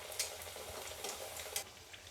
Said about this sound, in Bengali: একইভাবে আমি সবগুলোই ভেজে নেব।